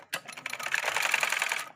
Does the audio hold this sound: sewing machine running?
yes